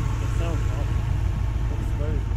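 A turbocharged 1UZ-FE V8 in a 2006 Toyota Hilux Vigo runs with a steady, deep, smooth rumble, fairly close and constant, while people talk over it.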